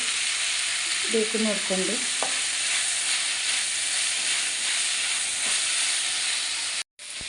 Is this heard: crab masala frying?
yes